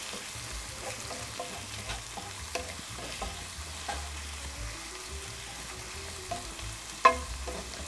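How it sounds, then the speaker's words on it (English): Chopped onions with a pinch of salt sauté in a hot pan, a steady sizzle broken by repeated scraping and clinking as a utensil stirs them, with one sharper clack near the end. "we're going to let that saute a little bit more till we see a little more translucency with that onion"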